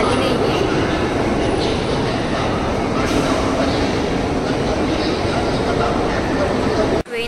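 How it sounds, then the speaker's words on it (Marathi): A Mumbai local train arrives at Churchgate station at night, a loud steady rumble of wheels and carriages lasting throughout and ending with a sudden clunk. "ट्रेन आली आहे आता."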